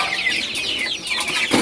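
A crowd of young chicks on a poultry farm cheeps constantly, with overlapping high peeps packed close together as they gather to feed.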